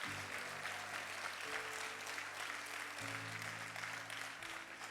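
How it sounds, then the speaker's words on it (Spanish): A church congregation applauds loudly for the Lord during a sermon by Pastor David Araujo, sustained dense clapping over a steady sustained tone from an organ or keyboard. "Vamos a darle un aplauso fuerte al Señor si usted lo puede entender."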